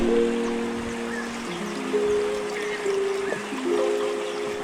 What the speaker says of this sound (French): on va remplir l'eau à la rivière